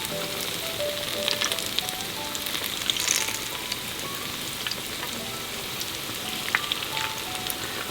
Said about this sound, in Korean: 얘가 노릇노릇하게 되도록 튀겨주시면 됩니다.